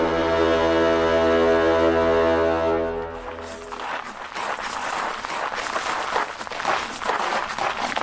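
A ram's horn shofar blasts a long, loud, steady tone for about three seconds, then cuts off into a burst of crowd-like noise with clapping or shouting that continues to the end.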